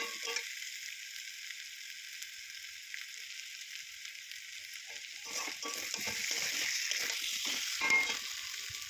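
Spice masala stir-fries in oil with a soft, continuous sizzle that grows busier and louder toward the end, marked by repeated scraping strokes of a spoon.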